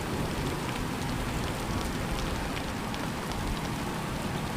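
Steady rain falling in the video game Truck Simulator 2018, a soft continuous hiss of drops at low level with no other sounds standing out.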